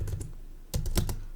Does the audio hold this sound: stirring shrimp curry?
no